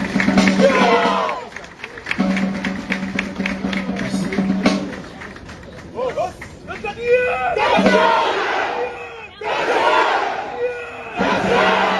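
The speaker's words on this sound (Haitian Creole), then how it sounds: "Sous vos applaudissements." A crowd at a live performance breaks into loud applause and cheering in repeated bursts, with shouts rising above the clapping and a sustained tone underneath. The bursts swell and fade across the clip, with short quieter gaps between them.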